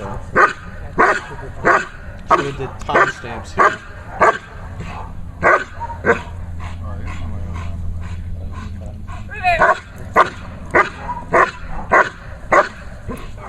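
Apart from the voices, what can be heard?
dog barking during bark and hold training exercise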